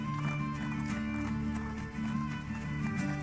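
Horse hooves clatter in a steady galloping rhythm in Assassin's Creed Brotherhood, with a brief whinny, layered over continuous game music and ambience at moderate loudness.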